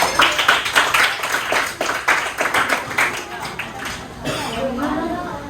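Students in a classroom clap together in a quick, rhythmic group pattern for several seconds, then the clapping stops and a voice speaks nearby.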